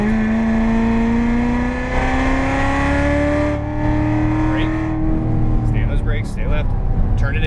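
A Corvette Z06 engine pulls hard on the Las Vegas Motor Speedway track, its loud, close drone rising steadily in pitch under acceleration while an instructor talks over it.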